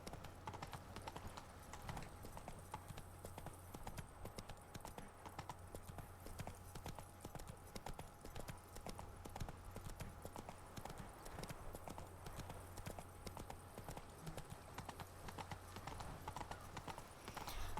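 Roach, the horse in the Witcher 3: Blood and Wine game, trots with steady, quick clip-clopping hooves throughout, a continuous rhythmic patter over a low ambient game hum.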